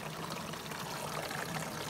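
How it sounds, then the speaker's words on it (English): Coolant water gurgles and trickles back into an air-to-water intercooler tank as the pump circulates it through full lines, a steady, close, bubbling wash with no voices. "those lines are all full of water, and you can probably hear it gurgling back into that tank"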